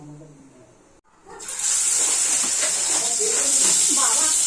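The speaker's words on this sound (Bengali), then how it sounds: "মাছগুলো এখন একটু ভেজে নেব।" Pieces of catla fish fry in hot oil for a Bengali fish curry, a steady, loud, hissing sizzle that starts after a brief quiet moment and carries on to the end.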